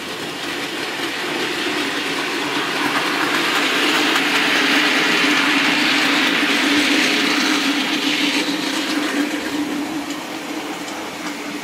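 A weathered Bachmann Class 20 OO gauge model diesel locomotive runs along model track with a steady, close whirring hum and faint rail rattle that swells slightly in the middle and then eases back.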